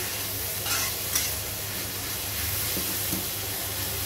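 Steady sizzle of a Chinese dish frying in a pan at home, with occasional scraping stirs of a spatula cutting through the continuous hiss.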